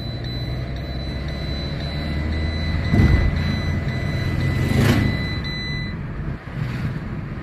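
A Fiat Punto with a faulty speedometer being driven: a continuous low rumble of engine and road noise heard from inside the car, swelling twice as it moves along.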